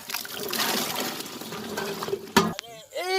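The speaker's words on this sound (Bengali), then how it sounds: "লেডি ফিঙ্গার গুলো আমরা এখন ধুয়ে নিচ্ছি যাতে পরিষ্কার হয়" Okra (lady fingers) being washed by hand in water, with continuous splashing and swishing, then a sharp knock and a voice speaking briefly at the end.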